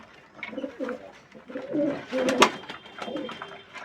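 Several pigeons coo in low, throaty bursts at morning feeding time, overlapping at close range, with rustling and a few sharper calls in between.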